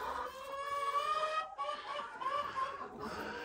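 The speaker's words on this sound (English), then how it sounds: "Chickens are so funny." Several farm hens around a nesting box give soft, repeated clucks and drawn-out tonal calls, fairly faint and close, with no talk over them.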